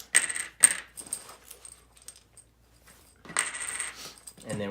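Game coins for the Coin & Crown board game are drawn and clink together, two sharp metallic jingles, then a quieter stretch of small rattles and another longer jangle, close up, with a brief voice at the end.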